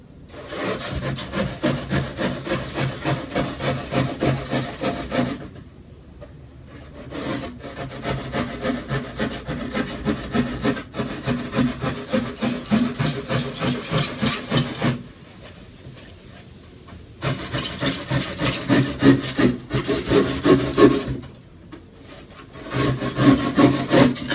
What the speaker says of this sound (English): Sometimes it's easier just to cut the section off instead of sawing around the corners.